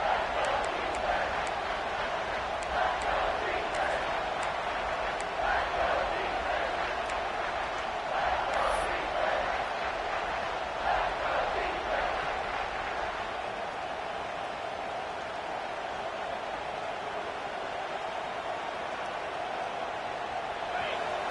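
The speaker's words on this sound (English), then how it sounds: "This crowd is trying to inspire this defense to make a big red zone stop." A large stadium crowd at a college football game roars steadily throughout, a dense wash of distant noise with a commentator talking over it.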